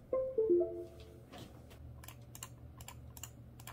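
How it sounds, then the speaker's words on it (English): Clicking from a repaired gaming mouse and keyboard, heard as a scattering of quick, light clicks and taps after a few brief tonal beeps near the start, fairly close and moderately quiet with no talking. "Clickety clackety, time to game happily."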